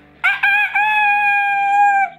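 A person loudly imitates a rooster's cock-a-doodle-doo during a chicken-noise contest, a single close, sustained nasal crow lasting about two seconds with a brief break near the start.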